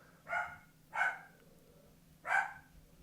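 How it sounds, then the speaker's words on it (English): A pet dog barks three times indoors, two quick barks then a third after a pause, fairly close but not loud. "And there's my dog."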